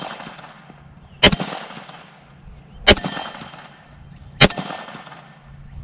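Three SCT-19 rifle shots ring out at an outdoor range about a second and a half apart, each followed by the sharp metallic clang of a steel MGM gong target and a decaying ring.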